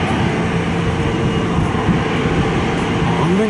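A large jet airliner takes off at Chubu Centrair airport, its engines making a loud, continuous roar heard from the sky deck, with a faint rising whine near the end.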